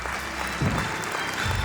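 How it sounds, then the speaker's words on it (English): A small group applauding to open a podcast, steady close clapping that swells slightly midway and continues throughout the short stretch. "Everyone, a round of applause."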